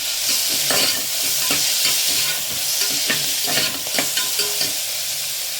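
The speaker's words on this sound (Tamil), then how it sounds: "கருவேப்பிலை கொஞ்சம் போட்டுக்கலாம்." Curry leaves and onions frying in a pan for chicken kurma, a steady, loud sizzle and crackle with occasional scraping of a spoon as the mixture is stirred.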